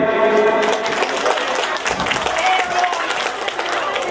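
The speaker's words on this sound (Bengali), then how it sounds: "সকলে একটু করতালি দিন" A crowd at a student felicitation ceremony in Salukа, Bankura claps together, scattered hand claps running beneath loudspeaker talk and sustained tonal sounds, fairly loud and close throughout.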